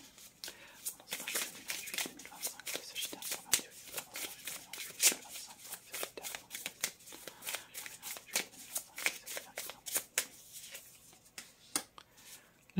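Tarot cards are shuffled by hand before a draw, giving quick repeated riffling flutters and soft papery slaps in an irregular rhythm, close and quiet, with occasional low speech.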